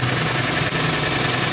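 A truck engine with a noisy fan belt runs close and loud, a steady droning idle with a faint rattle. It holds constant apart from one brief dip.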